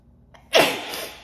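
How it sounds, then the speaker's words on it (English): A single sharp sneeze bursts out after a soft intake of breath, loud and close, then trails off into a breathy tail. "I'm gonna sneeze."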